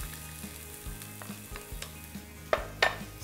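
Chopped onion frying in oil in a bean pot, a continuous soft sizzle with a spoon stirring and scraping against the pot in several knocks, two louder clacks near the end, no talking.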